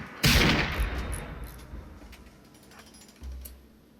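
A sharp burst of gunfire from the video game Rimworld, a loud crack followed by a rattling mechanical tail, then a second softer shot near the end.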